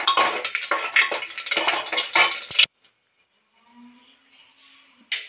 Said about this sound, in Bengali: জিরে তেজপাতা ফোড়নে দিলাম